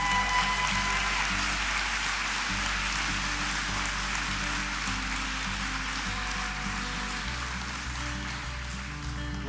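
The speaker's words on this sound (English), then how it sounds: "How about a big round of applause for our PCP graduates?" Steady crowd applause for paramedic graduates at a Holland College graduation ceremony, a continuous hiss of clapping with a low tone humming beneath.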